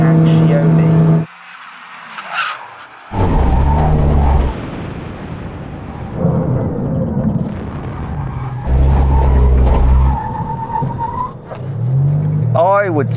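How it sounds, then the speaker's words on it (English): A Bugatti Chiron Super Sport and an 1,800-horsepower Lamborghini Huracan make full emergency stops, loud engine roar and low rumble cutting in and out in bursts as the cars brake hard, with talk in between. "When we reach the line, full emergency stop."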